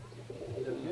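Pigeons coo softly inside a loft, a brief low murmuring burble that is close but quiet, with no speech over it.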